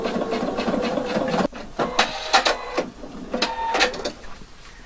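Sewing machine stitching in the ditch of a seam to attach a waist facing, a steady mechanical whirring in bursts with brief pauses and a few clicks, fairly close, with no talking.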